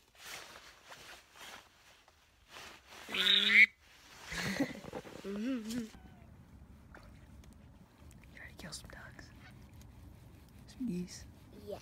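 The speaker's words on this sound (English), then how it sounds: "the duck call's ready to go" A few short, nasal honking quacks from a blown duck call ring out in bursts during a goose hunt, with quiet voices and outdoor background noise between them.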